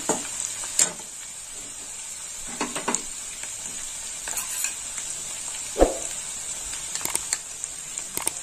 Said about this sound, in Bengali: হলুদটা একটু করে ভাজা হবে।